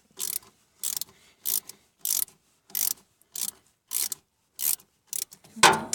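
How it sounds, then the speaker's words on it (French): An 8 mm socket ratchet loosens a dynamo connector on a Renault Dauphine, giving about nine short, evenly spaced bursts of clicking pawl, close and crisp with quiet gaps, then a final louder rattle. "avec une douille de 8 là, on démonte la première connectique sur la dynamo."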